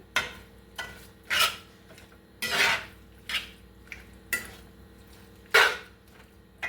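Metal utensil scraping and clinking against a bowl while mixing ingredients for a tri tip dinner, a series of close, loud stirring strokes in irregular rhythm, with no talking.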